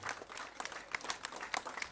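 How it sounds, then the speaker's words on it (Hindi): An audience at an award ceremony claps in a short, quiet burst, the applause sounding faint and slightly distant. "जोरदार तालियां, सभी ताली बजाएंगे।"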